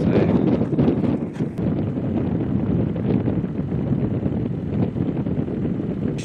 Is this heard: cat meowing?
no